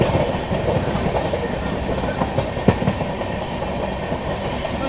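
Sampark Kranti Express running at speed past Tundla Junction, a continuous loud rumble with rhythmic clickety-clack of wheels over rail joints and a sharp metallic clank near the middle, no voices.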